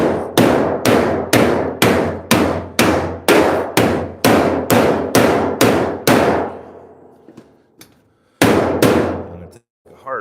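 A quick run of about a dozen rhythmic hammer blows strikes sheet metal on a 1938 Cadillac in a custom shop, each clang ringing briefly; after a pause comes one more strike and a short voice.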